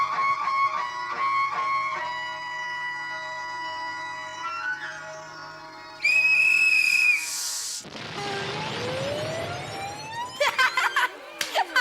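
A whistle blown loudly into someone's ear, producing shrill piercing blasts amid a busy mix of tonal sounds, a brief noisy burst and quick repeated chirps near the end.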